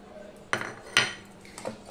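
Cut green mango is tossed with salt and turmeric in a bowl: two sharp metallic clinks against the bowl a half second apart, then a softer knock over a quiet background.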